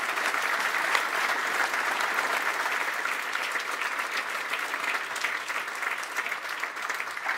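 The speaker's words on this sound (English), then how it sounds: "Warm applause to Nick and Elliot for that." Sustained applause from a sizeable audience, a dense steady patter of clapping that continues evenly without fading.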